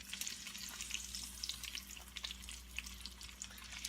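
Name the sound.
chicken browning in frying pans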